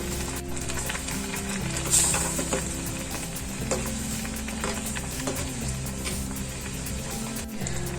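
Egg curry frying in a pan, a continuous close sizzle with repeated stirring and scraping of the spoon, no talking.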